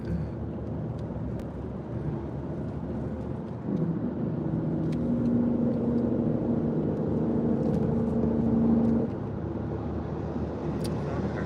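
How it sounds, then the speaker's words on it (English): A big truck passes on the road, heard from inside a moving car as a swelling low rumble that peaks for several seconds before fading back into steady road noise. "Big truck."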